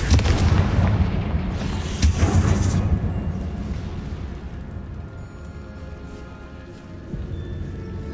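Confringo blasting-spell explosions in Hogwarts Legacy go off as a couple of sharp booms near the start, with rumbling debris and combat ambience trailing off afterward.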